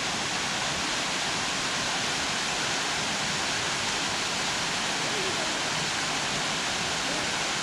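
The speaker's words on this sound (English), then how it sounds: "And this is the second waterfall. The top one." Top waterfall on the Kingfisher Trail, a constant broadband rush of falling water, loud and close, unchanging for several seconds with no voices.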